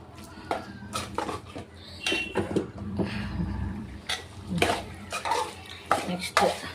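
A spoon stirs chicken curry in a metal pan, giving irregular scrapes and clinks against the pan with a soft sizzle underneath, close and moderately quiet.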